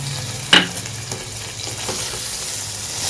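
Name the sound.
stirring cooked mutton liver with dried fenugreek in pan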